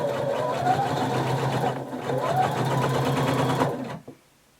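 A sewing machine stitches a folded fabric hem on a little black dress, a loud, steady close whirring run that briefly slows, resumes, then stops abruptly.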